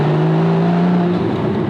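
A 2016 Porsche Boxster Spyder engine holds a steady, loud revving tone that shifts as revs change during rev matching, heard close up with no talk.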